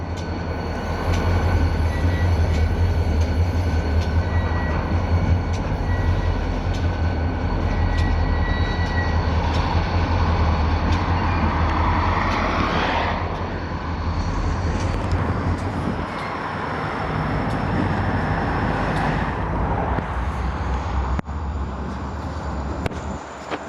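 An NECR freight train engine pulling out of town on the Palmer Sub, a loud continuous diesel rumble with grinding rail noise and a rising whine midway, sustained for the whole stretch without talk.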